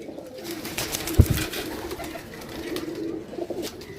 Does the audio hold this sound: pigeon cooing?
yes